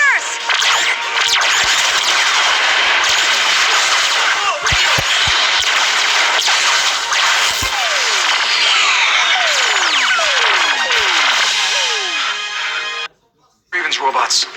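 Blasters fire at computers in a Power Rangers episode, a dense loud barrage of zapping and sweeping laser tones over a steady roar that cuts out briefly near the end.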